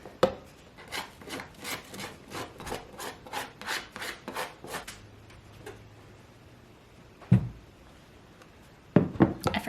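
Fresh lemon being zested on a grater: a steady run of rhythmic rasping strokes, close and fairly soft, that stops partway, followed by a few isolated knocks and scrapes.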